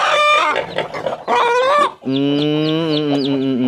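A hen and her newly hatched chicks from the third brood on a Thai chicken farm call loudly and close by, harsh clucking bursts giving way to a sustained, wavering high-pitched call.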